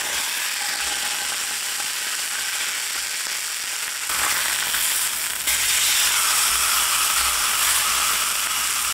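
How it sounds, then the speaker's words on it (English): Sous-vide steak searing in a smoking-hot pan gives a loud, dense, continuous sizzle and hiss that holds steady for several seconds and then grows a little louder, close up with no talking. "Got it smoking hot, and I'm just gonna sear it on each side."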